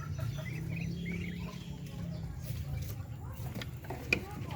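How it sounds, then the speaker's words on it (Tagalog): Native chickens and small three-week-old chicks cluck and peep in a pen, soft and close, over a constant low hum, with a person talking at times. "dito pa yung mga sisiyo natin, mas maliit mga Pinoy"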